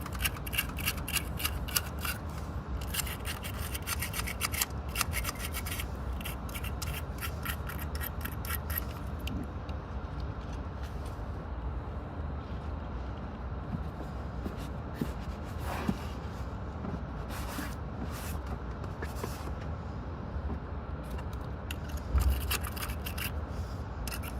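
A brush scrubs blue corrosion off a battery in a long run of quiet, steady scratching and rubbing strokes, close by, with no talking.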